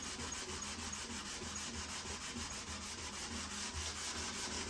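Steady rhythmic hand sanding rubs along the edges of a guitar's wooden sides, a soft close scratching in even strokes with no talk.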